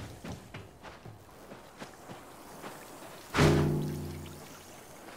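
Water leaks and spits onto the floor in Dead Island 2. Soft footsteps come first, then a sudden close spurting gush that gradually tapers off.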